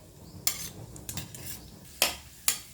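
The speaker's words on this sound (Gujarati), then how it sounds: "કાજુ બદામ બંનેને લેવાનું અને આવી રીતે એના ટુકડા ફ્રાય કરી લેવાના" Cashew and almond pieces frying in a pan for carrot halwa, heard as a few sharp spoon scrapes and clinks against the pan over a faint sizzle, quiet and close.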